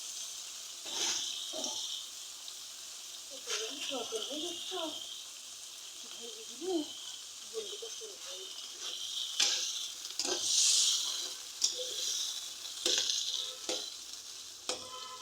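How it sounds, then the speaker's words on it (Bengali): Pointed gourd and potato frying in oil in a wok, giving a steady sizzle with stirring and scraping sounds, a few louder clatters, and brief talk in the background. "সামান্য পটল আর আলু সামান্য একটু ভেজে নেব, যাতে খেতে ভালো লাগে।"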